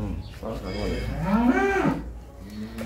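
A hybrid dairy cow or calf lets out one long, loud, rising and falling moo close by at a cattle market in Dinajpur, with faint background murmur.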